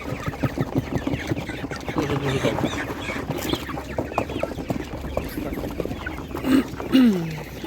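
Chickens at a livestock market in Ivano-Frankivsk region cluck repeatedly and nearby, with a louder squawk near the end, under and between people talking.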